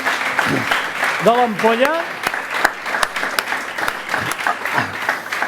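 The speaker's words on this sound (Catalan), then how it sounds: "mereixen un gran aplaudiment" Audience clapping for restaurant chefs at a seafood gastronomy event in l'Ampolla, steady moderate applause running throughout while someone speaks over it.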